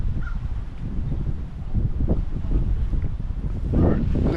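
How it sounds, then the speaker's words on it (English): Strong wind rushes across the microphone at a boat launch pier, a steady low roar with gusts swelling toward the end and a few faint crow caws in the background. "the wind blowing is really nice right now. Got a really high wind"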